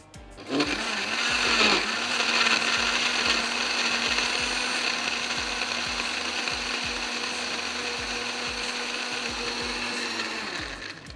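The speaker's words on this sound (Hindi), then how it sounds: "चलिए इसको हम करते हैं ब्लेंड" An electric kitchen blender whirring through a kachumber cooler drink, loud and continuous after a short start-up, holding a steady high-pitched motor whine with grinding rattles for about ten seconds before winding down.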